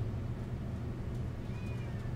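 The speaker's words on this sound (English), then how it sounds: "So, did you hear this cat?" A cat gives one faint, drawn-out meow near the end, set against a steady low rumble of room noise.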